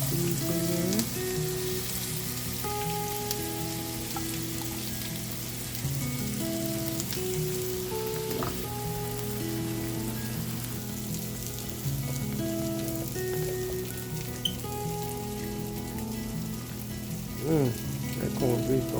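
Onions and peppers for sandwiches frying in a pan, a continuous close sizzle with crackling pops that holds steady the whole time, with a background tone and a faint clatter near the end.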